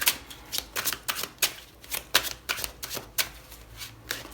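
Tarot cards are shuffled and dealt by hand in a quick, uneven series of close, crisp riffling slaps and flicks, with no talking.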